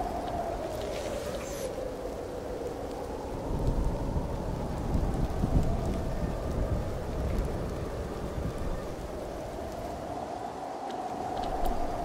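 Steady rain pours continuously in the video game Mind Over Magic, with low rumbling thunder swelling in the middle and again near the end, filling the whole scene at an even loudness.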